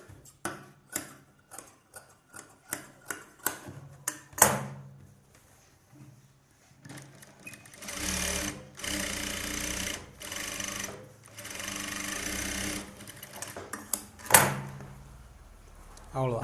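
A sewing machine stitching the lining of an Aari work blouse in quick short bursts, then longer sustained runs of rapid whirring, with clicks and handling knocks between.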